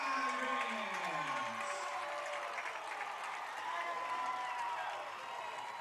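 Home crowd at a college football game between Golden West and OCC cheers and applauds steadily after a touchdown, a broad sustained roar with clapping throughout.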